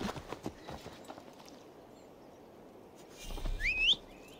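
A horse in Assassin's Creed Valhalla trots along a road, hooves clip-clopping in a quick even rhythm at moderate distance, followed by a rising whistle-like call and a louder burst near the end.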